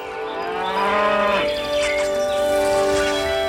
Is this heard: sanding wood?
no